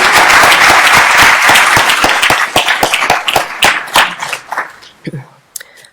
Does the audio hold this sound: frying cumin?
no